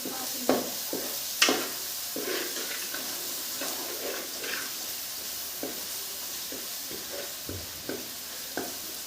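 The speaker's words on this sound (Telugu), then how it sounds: "నూనెలో అలం వెల్లుల్లి పేస్ట్ బాగా ఫ్రై అవ్వాలండి" Ginger-garlic paste frying in oil with onions for a fish curry, a soft steady sizzle close by, punctuated by occasional spoon taps and scrapes against the pan.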